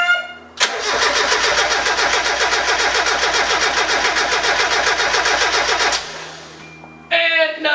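A car engine cranks steadily for about five seconds after a motor and turbo swap, loud and close, then stops; a brief burst of sound follows near the end.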